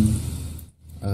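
Steady broadband fan noise hums through an audio recording, a constant hiss and low rumble that briefly drops away before returning, with a faint voice-like tone at the edges.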